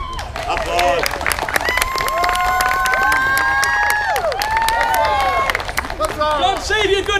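A festival crowd applauds a knightly performance troupe at a costumed court show, with loud, sustained clapping mixed with cheers, whoops and shouted voices that swell and fade near the front.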